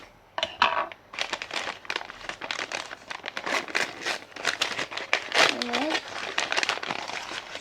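A Kinder Joy surprise package wrapper being torn open by hand: close, irregular crinkling and crackling bursts of foil-like plastic, with a brief voice murmuring partway through.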